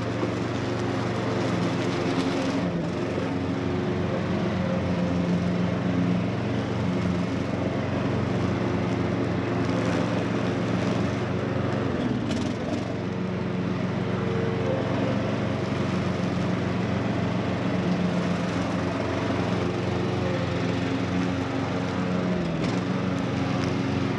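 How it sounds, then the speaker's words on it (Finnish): Stiga Tornado 398 hydrostatic ride-on mower engine idling at low throttle, a steady continuous drone with even harmonic hum held close and loud throughout, no break in the running sound. "Tälleen pikkukaasulla sä voit ajaa sitä ilman, että se sammuu."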